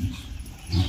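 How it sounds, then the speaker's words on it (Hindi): A dog being fed outdoors in Pithoragarh, Uttarakhand gives a brief low whimpering whine, close and short, with a slightly stronger burst toward the end. "भालू को मत देना हाँ, भालू गंदा कुत्ता है"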